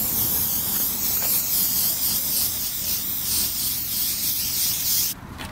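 A steady, loud aerosol spray hisses continuously for several seconds close by, cutting off abruptly near the end.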